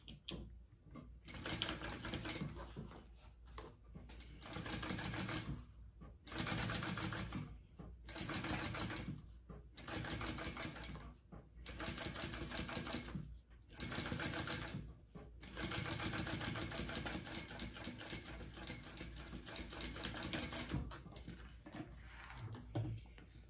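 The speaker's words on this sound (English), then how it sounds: "we're going to top stitch through that" A sewing machine top stitching through a seam on a bag, running in repeated bursts of rapid needle chatter a few seconds each, separated by short pauses, close and steady.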